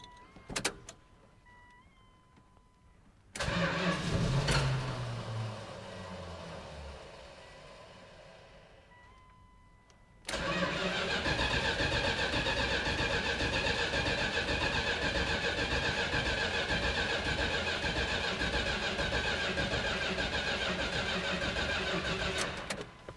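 A car engine, with the transmission in park, cranks repeatedly in short bursts while fuel is drawn up to fill the carburetor bowl, then catches and runs loudly and steadily up close for the rest of the stretch.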